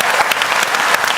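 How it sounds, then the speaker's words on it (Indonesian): Audience applause fills a short stretch, thick and loud, with many hands clapping close together in a continuous wash. "Kita kasih tepuk tangan untuk Syahrul Gunawan"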